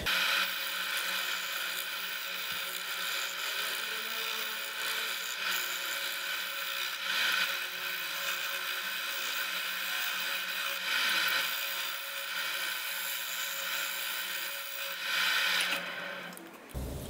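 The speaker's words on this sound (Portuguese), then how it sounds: "vou dar uma pequena usinada, desbastar só um pouquinho só para tirar os defeitos e lixar" An antique wooden piece is turned and lightly machined, then sanded to remove defects, producing a continuous loud abrasive scraping and whirring with gentle swells in intensity and a sudden stop at the end.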